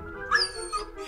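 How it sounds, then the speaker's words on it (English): A dog gives a short, high whimper and a couple of yips close by, brief and fairly faint against a quiet indoor background. "Can you please quiet this dog?"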